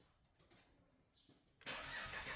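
A petrol car with a 3-litre six-cylinder engine, powered by a portable jump starter, cranks briefly and catches, bursting into a loud steady running roar after a quiet low rumble.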